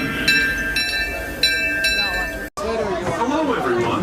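The Disneyland Railroad train at Disneyland runs with a series of bright chiming tones and a steady rumble, then crowd chatter fills in after a brief drop-out.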